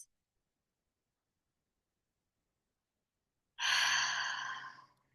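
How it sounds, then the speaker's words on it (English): One long deep exhale during a breathwork session, a breathy whoosh that fades out over about a second and a half after a long silence, close and alone. "we're going to begin by just taking a few deep breaths"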